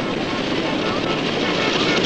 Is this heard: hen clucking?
no